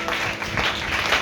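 A church congregation claps during a sermon, a dense, steady wash of applause from many hands, close and continuous for about a second.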